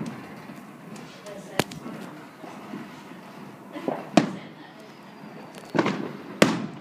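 New Year fireworks go off outdoors as several sharp, loud bangs ring out at irregular intervals, some near and some farther off, over a crackling, rumbling background with people talking.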